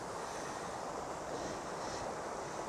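Steady rushing water of the River Almond, a continuous broadband wash like flowing current or surf with some wind buffeting the microphone, heard alone without voices.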